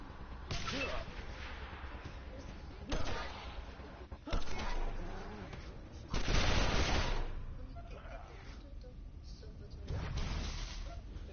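In the Wasteland 2 video game, a grenade blast and bursts of gunfire come in three loud, rough surges separated by quieter stretches, with someone talking in between.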